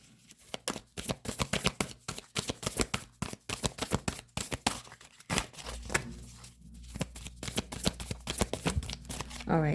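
Tarot cards shuffled by hand for a reading, a rapid run of crisp riffling flutters and taps close up, continuing in quick bursts for several seconds.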